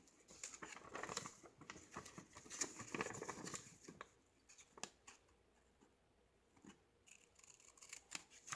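Scissors cut along the edges of a paper calendar, first in a dense burst of snipping and rustling and then in sparser, separate cuts. The sound is quiet and close, with no speech.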